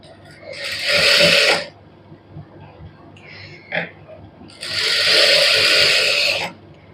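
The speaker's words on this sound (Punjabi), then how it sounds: "ਸਲਾਈ" A sewing machine stitches plain cloth in two loud, sustained whirring bursts separated by a quieter pause with small handling clicks and a brief tap.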